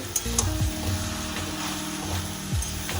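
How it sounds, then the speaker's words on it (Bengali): Spices sizzling in a hot pan, a steady crackle with scraping stirring strokes and a couple of sliding utensil sweeps. "ভালো করে মশলার সাথে কষে নিচ্ছি"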